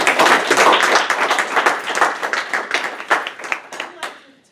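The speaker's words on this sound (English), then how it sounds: "Let's give her a warm round of applause" An audience claps in a dense, warm round of applause that holds strong and then thins out and fades toward the end.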